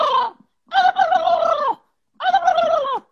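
A human voice imitates a turkey gobble in three warbling, harmonic bursts, the first short and the next two longer, loud and close with brief silences between.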